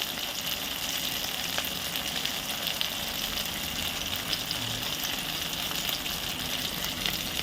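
Peanuts frying in hot oil for an egg gravy curry give off a steady, dense sizzle with a bubbling crackle, even and unbroken throughout with no voices.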